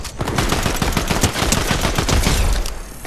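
Rapid, dense gunfire from weapons in the video game Fortnite, loud and continuous automatic bursts with heavy overlapping shots, ending abruptly near the close.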